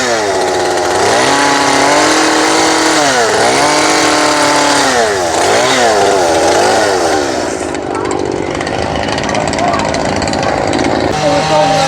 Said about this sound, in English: I probably wouldn't even know how to turn the chainsaw on.